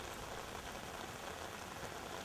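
Heavy rain pours down in a steady, dense hiss with no breaks and no voices.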